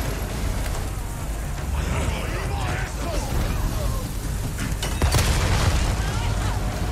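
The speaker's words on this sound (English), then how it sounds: "That axe just exploded." An axe explodes in the video game Resident Evil 4 Remake with a deep, booming blast over a dense, rumbling game soundscape. A sharper burst comes near the end.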